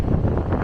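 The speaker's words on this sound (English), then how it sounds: "this is really windy" A short, heavy rumble of wind buffeting close against the microphone, loud and low with no voices.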